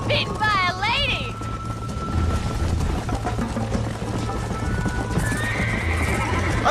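In Red Dead Redemption on PS3, a horse neighs loudly near the start over steady galloping hoofbeats, with a second whinny later; the clopping continues throughout, and voices talk faintly underneath.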